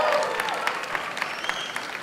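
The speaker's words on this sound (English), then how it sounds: "guys, give him a round of applause!" Wedding reception guests at a London hotel celebration break into a round of applause, dense rapid clapping from a crowd filling the room at steady volume for a couple of seconds.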